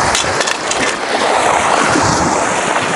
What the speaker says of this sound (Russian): Ветер у нас прям ужасный.